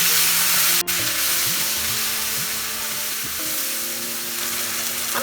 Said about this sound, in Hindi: हमें 3-4 मिनट मसाला सॉटे करना है मीडियम फ्लेम पे